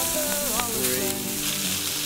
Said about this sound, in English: The scallops in, and then we just need to, well, and they'll literally sear really quite quickly.